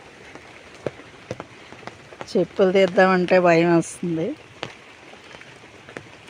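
Steady rain patters across a sweet lime orchard, a soft constant wash behind a person speaking in short phrases in the middle.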